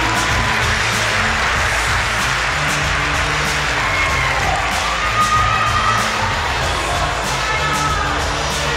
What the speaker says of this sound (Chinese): 我们给 A 组的选手掌声鼓励。